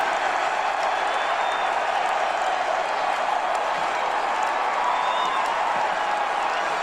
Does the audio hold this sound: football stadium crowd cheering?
yes